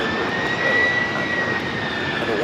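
A jet airliner taking off at LAX airport, its steady, loud engine roar holding evenly throughout with no talk.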